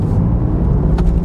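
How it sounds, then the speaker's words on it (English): BMW M4 engine under a squeezed throttle, a loud, steady low rumble heard from inside the car, with no clear rise in pitch over the short stretch. "Squeezing the throttle. Oh, it's got some grunt to it."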